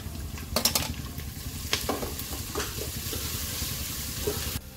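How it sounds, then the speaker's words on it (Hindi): Garlic and ginger paste sizzling and frying in a pan while making green chickpea pulao, a steady crackling hiss with a few sharp spatters and stirring scrapes throughout. "अब इसमें लहसुन और अदरक का पेस्ट डालूंगी।"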